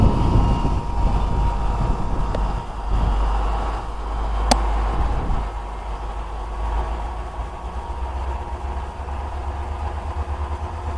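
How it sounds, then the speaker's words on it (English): An air conditioning compressor kicks on during a thunderstorm and settles into a loud, steady low hum and rumble that runs on continuously, with no voices. "This is the sound of the air conditioning compressor starting."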